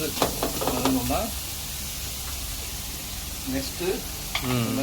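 Onions sautéing in a pan for a drumstick-leaf stir-fry, an even sizzle and hiss running throughout while a person talks over it at the start and end.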